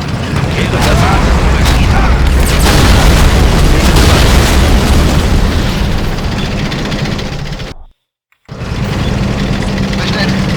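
Heavy artillery explosions in the WWII strategy game Blitzkrieg, a dense rumbling barrage of deep booms with a brief silent gap near the end, voices talking faintly underneath.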